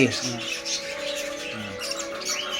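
Birds on a poultry farm give short, harsh squawks at scattered intervals, heard amid talking.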